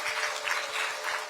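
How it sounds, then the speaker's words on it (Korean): An audience at a book concert claps in encouragement, a brief burst of dense, close applause lasting just over a second. "여러분, 뜨거운 격려의 박수"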